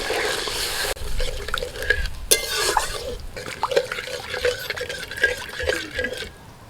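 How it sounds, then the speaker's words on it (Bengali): Water splashes and sloshes as it is poured into fried masala in a pan for an egg dish, with stirring and liquid gurgles up close, fairly loud, no talk. "মশলাটা কষিয়ে নিয়ে এখন এর মধ্যে দিয়ে দিচ্ছি জল।"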